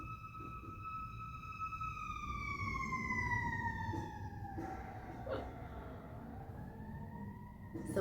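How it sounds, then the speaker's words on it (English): Sirens wail in the distance, one tone gliding slowly downward while others overlap, with a few faint knocks and background noise underneath. "There are sirens."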